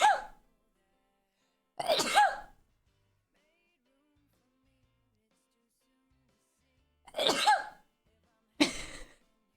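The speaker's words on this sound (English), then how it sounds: "I'm about to sneeze." Four separate sneezes spaced across several seconds of silence, each a sharp, close burst with a short voiced tail.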